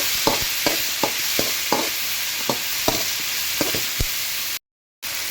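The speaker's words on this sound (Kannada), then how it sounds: "ಇದನ್ನು ಕೂಡ ಟೊಮೊಟೊ ಸ್ವಲ್ಪ ಸಾಫ್ಟ್ ಆಗೋವರೆಗೂ ಫ್ರೈ ಮಾಡ್ಕೊಳ್ಳಿ." Tomato frying in a pan for a drumstick sambar, a soft steady sizzle broken by about a dozen sharp scraping strokes of a spoon, close, with a brief dropout near the end.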